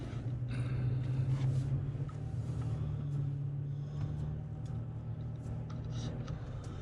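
A Corvette driving in Sport mode with a Pedal Commander throttle controller gives a steady, close engine rumble and road drone, holding a fairly even level throughout with no talk.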